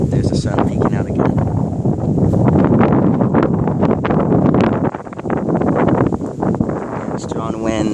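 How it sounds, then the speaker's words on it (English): Strong thunderstorm wind gusts roar steadily through trees in Corpus Christi, Texas, a loud continuous rush with surging peaks and brief lulls, buffeting the microphone while a voice speaks faintly underneath. "you can definitely see it pounding the trees whenever a big gust comes in"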